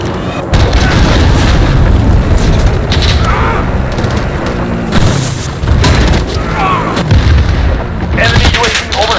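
Cruise missile strikes in a Modern Warfare Ground War match hit as a series of heavy booming explosions, with loud blasts spaced across the stretch amid scattered gunfire and short bursts of noise.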